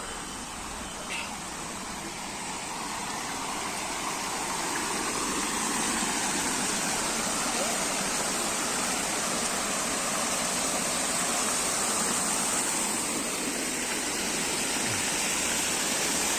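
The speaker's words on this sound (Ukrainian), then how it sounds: "подивимось, як тут фонтанчик грає свою музику водою" A street fountain in Odesa splashes and rushes in a steady broadband hiss, growing a little louder over time, continuous and fairly close.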